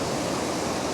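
Steady, dense rush of a waterfall pouring over rocks, a constant close roar of falling water with no break and no voices.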